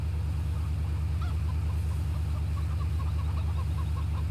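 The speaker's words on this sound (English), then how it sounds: "I ran over a chicken." Chickens cluck in the Farming Simulator 15 video game on the Volga map, with scattered small calls sitting under a loud, steady drone from a tractor engine throughout.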